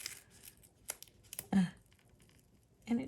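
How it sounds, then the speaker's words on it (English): Paper tearing while assembling a Victorian-style birthday card with foam dots, heard as short sharp rips near 1.5 and 3 seconds against a quiet background, close and moderately loud. "And it tore my paper."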